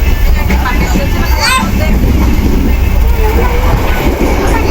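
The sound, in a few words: train running at high speed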